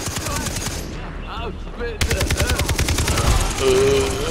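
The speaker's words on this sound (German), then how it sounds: "Kein schlechter Schuss." Rapid bursts of automatic gunfire and single shots from a Far Cry 3 multiplayer match, loud and dense after a short lull, with people talking over the shooting.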